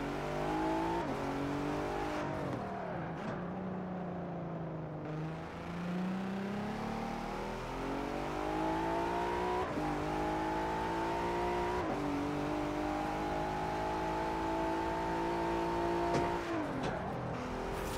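A little V6 Corvette tuned past 700 horsepower in Forza Horizon 4 revs continuously for the full stretch, its engine note climbing and holding with a brief dip and gear-change-like breaks, close and steady with no talking.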